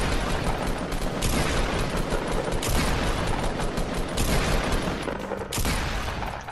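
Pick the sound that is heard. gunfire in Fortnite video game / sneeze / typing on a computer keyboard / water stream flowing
gunfire in Fortnite video game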